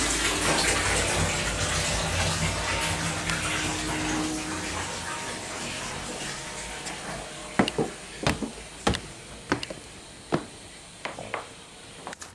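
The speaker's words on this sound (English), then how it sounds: "look at this bath. It's never going to fill up. It's been running for about 5 minutes already." Water gushes steadily into a bathtub from a running tap, followed by several sharp knocks and clinks near the end.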